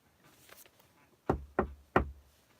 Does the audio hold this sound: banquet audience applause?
no